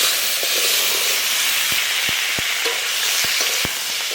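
Raw vegetables such as cauliflower, zucchini and cabbage hit a hot pan with a loud, continuous hissing sizzle, steady throughout, with a few sharp clicks of utensils against the pan, no talking.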